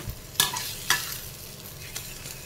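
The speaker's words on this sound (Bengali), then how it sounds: "এদিকে ডিমের অমলেট হচ্ছে" Egg omelette frying in a pan, a soft continuous sizzle broken by three sharp scraping stirs of a spatula, close and quiet with no speech.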